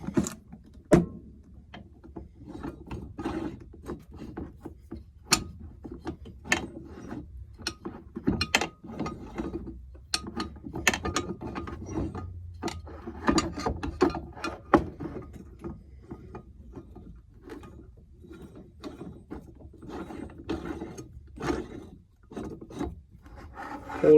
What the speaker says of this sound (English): and you just twist it, pushes the crankshaft out